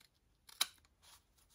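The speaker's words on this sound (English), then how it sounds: "take your paper snips" Paper snips cut through designer series paper for a birthday card, one crisp close snip followed by a softer sliding cut, quiet and alone.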